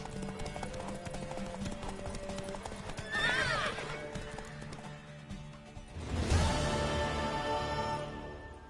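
A horse whinnies with a high, wavering neigh, then hooves clatter and a second loud neigh rings out over a busy, steady game-like background.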